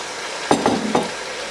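Spiced boiled potatoes for Amritsari aloo are stirred in a pan, giving three short scraping strokes over a faint sizzle, close and moderately loud, with no talking.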